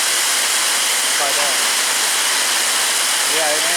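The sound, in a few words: marble-size hail storm pounding down on awning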